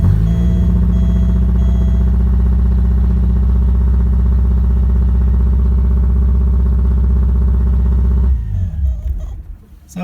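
A 1987 Porsche 924S engine, running with its fuel pump relay jumpered, idles at a steady, fairly high, loud rumble that holds evenly for several seconds, then cuts off abruptly near the end.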